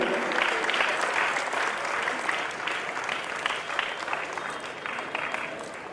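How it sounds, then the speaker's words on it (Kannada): Loud, sustained applause from a seated crowd at a ceremony, dense clapping that slowly thins toward the end. "ಜೋರಾದ ಚಪ್ಪಾಳೆಯ ಮೂಲಕ ನಮ್ಮ ಗುರುಕಾರ ಭವನವನ್ನು ಅಭಿನಂದಿಸಬೇಕು"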